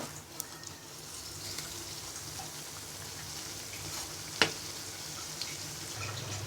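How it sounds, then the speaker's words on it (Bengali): A Mughlai paratha frying in oil in a pan gives a soft, steady crackling sizzle like light rain, faint and continuous, with one sharper tap partway through. "এবার আমরা উল্টিয়ে এপিট ওপিট ভেজে নিব।"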